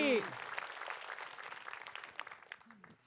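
A studio audience at an Islamic television talk show claps in a moderate, fairly distant patter that follows a brief voice and thins out toward the end.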